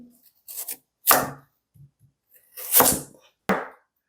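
A knife slicing a carrot on a cutting board in a few separate close cuts, each a short crisp chop with quiet gaps between.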